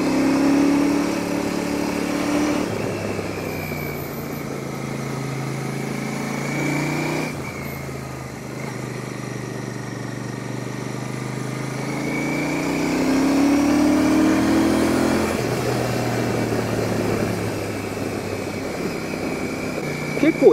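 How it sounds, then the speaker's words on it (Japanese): Royal Enfield Super Meteor 650 cruiser with its 270-degree crank twin, ridden on a winding mountain pass, its engine revved steadily with rising and falling pitch under continuous wind rush; a rider talks over it. "少しエンジンを回してみます。"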